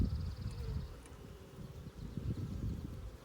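Honey bees hum in a dense, steady drone from an opened hive that is crowded with nectar and brood, close and continuous, with faint handling noises and no talk.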